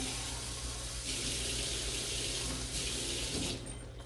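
Hot water runs from a kitchen tap for a skillet lasagna, a steady hiss and splash from close by that holds throughout, with a faint clunk of the tap or a container near the end.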